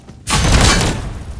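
Gunfire in PUBG Mobile heard as a sudden loud burst of shots that starts abruptly, then a booming wash lasting under a second before it tapers off.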